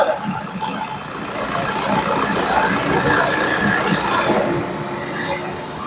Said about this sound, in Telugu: ఒకసారి ఇంజన్ స్టార్ట్ చేసి చూపిస్తానండి